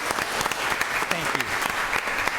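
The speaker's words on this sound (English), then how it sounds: "Please give him a round of applause." Applause at a school board of education meeting: a crowd claps steadily in a dense patter of hand claps for a couple of seconds, with a voice briefly heard beneath.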